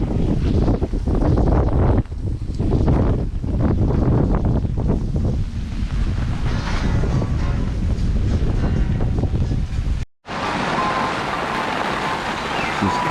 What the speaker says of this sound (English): Oh, I think it's a little bit windy.